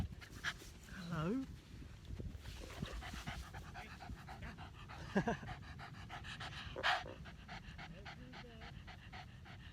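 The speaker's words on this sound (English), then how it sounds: "Here's a dog." A dog in a park pants in quick, steady, close breaths throughout, with a whimper or two, while someone talks and greets it.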